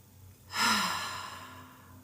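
A single deep breath drawn in through the nose during a guided breathing exercise, a rising airy inhale that peaks quickly and tapers off over about a second and a half.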